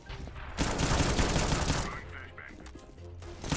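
Gunfire in the video game CS:GO, a close, loud rattling burst of shots lasting about a second and a half, then fading into quieter game noise with a few tonal beeps as someone talks.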